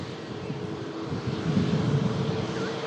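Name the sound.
Ryanair aircraft vacating the runway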